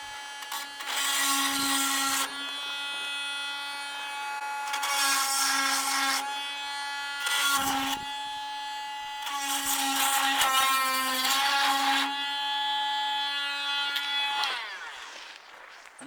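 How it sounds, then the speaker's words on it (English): A file rasps across chainsaw chain teeth in repeated strokes, bursts of gritty scraping over a steady motor-like hum, close and fairly loud. "Keep it sharp. It's a lot better than trying to sharpen it when it's dull."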